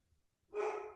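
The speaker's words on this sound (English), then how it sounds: "That's my dog Jack back there" Dog in a back room during a podcast recording, a single short bark or huff heard faintly from a distance near the end of a quiet moment.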